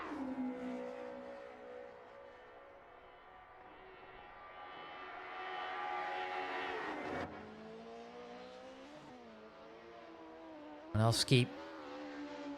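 Classic DTM race cars roar through a racing video game in a tight slipstream battle, engines droning and rising in pitch, then dropping sharply on a downshift, with a brief loud burst near the end under continuous commentary.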